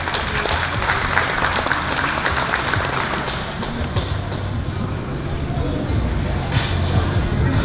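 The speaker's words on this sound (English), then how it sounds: "Can we please give them a round of applause as well?" Festival crowd applauding committee members at the Hmong Wausau Festival, a steady, dense wash of many hands clapping that holds evenly throughout with no speech over it.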